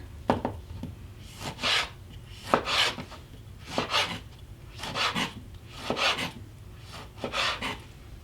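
Knife slicing through Roma tomatoes on a cutting board while they are chopped for water-bath canning: a steady series of crisp, rasping cuts, roughly one every 1.2 seconds, close and alone with no talk.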